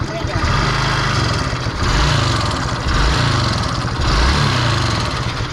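A Fury car engine, still noisy after a new timing chain and tensioner, runs loud and close with a steady droning rumble and a rough rattling edge that swells in a few surges.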